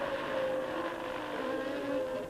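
A 1992 Formula 1 car with a Renault V10 engine at the Brazilian Grand Prix holds a steady high-rpm drone, a continuous moderately loud whine with no talk.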